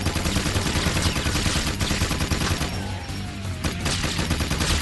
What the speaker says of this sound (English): I just decided to go all out, just destroy these things with a machine gun